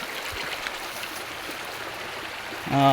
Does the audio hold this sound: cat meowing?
no